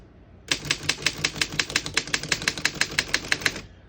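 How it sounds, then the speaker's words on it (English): A 1916 Underwood No.4 antique desktop typewriter tapped out in a steady run of about twenty crisp, evenly spaced keystrokes, close and clear with nothing else heard. "As you can see, all the keys type nice and none of them skip or stick."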